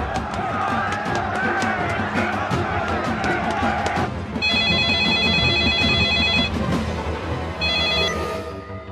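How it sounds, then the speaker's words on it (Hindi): A telephone ringing with steady repeated electronic trills in the second half of a scene from a Bhojpuri film, over loud background music and crowd noise. "नंदू के फोन आई रहे"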